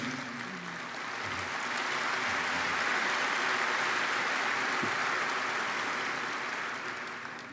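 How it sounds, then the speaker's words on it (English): Applause at the Berkshire Hathaway annual shareholders meeting, a soft, distant wash of clapping from a large crowd that swells gently and then fades, faint throughout. "both of them deserve applause"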